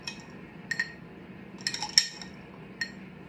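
A utensil stirs noodles in a dish, giving light scattered clinks and scrapes against the bowl in a few irregular bursts, close and fairly quiet with no talking.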